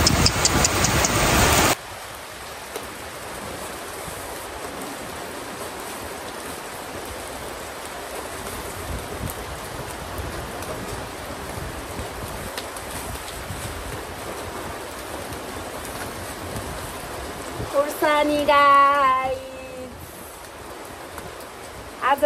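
Steady rain falls on an outdoor yard, a continuous broadband hiss for the whole stretch, with a brief voice rising over it near the end.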